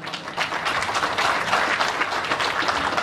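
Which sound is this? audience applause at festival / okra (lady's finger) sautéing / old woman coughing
audience applause at festival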